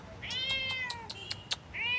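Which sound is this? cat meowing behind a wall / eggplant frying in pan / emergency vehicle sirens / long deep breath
cat meowing behind a wall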